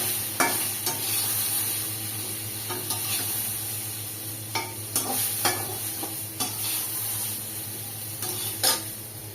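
Potato and ridge gourd frying in a pan, a continuous loud sizzle broken by repeated scraping and clinking of a spatula against the metal, with no talking.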